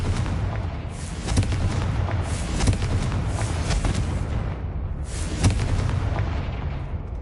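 Spell explosions from Confringo cast in Hogwarts Legacy, a steady barrage of loud, dense booms and blasts with sharper bursts near one, three and five seconds.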